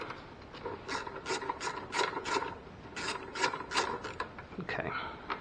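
Ratchet wrench clicking in quick bursts while loosening a front cover bolt on a 2004 Ford Focus engine, close and fairly loud, with short pauses between runs of ratcheting.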